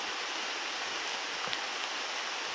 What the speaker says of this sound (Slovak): No riadne prší a o chvíľu budem mokrý.